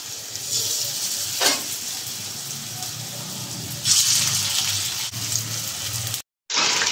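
Chicken sizzling loudly in hot oil in a wok, a constant close hiss with occasional bursts of spattering, cutting off abruptly near the end.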